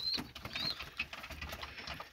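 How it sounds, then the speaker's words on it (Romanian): Pigeons at a morning feeding make faint soft pecking, light pattering and scattered short chirps and wing sounds, quiet and close with no speech. "Aici sunt porumbei."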